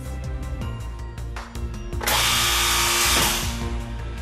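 A Gannomat Elite dowel boring machine's motor whirs, then a loud vertical drilling burst bores through wood for about a second and a half before the hum settles back.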